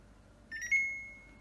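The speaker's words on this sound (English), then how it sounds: "And that's the alarm. I just turned the alarm off." A Samsung refrigerator alarm after a water filter change, sounding one short electronic beep that is bright and clear, close by and alone, then fading out.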